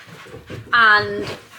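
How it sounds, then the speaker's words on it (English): A dog at a home stable yard pants and lets out a drawn-out, high whimpering whine close by, with a person talking around it. "I'm so sorry about the dog."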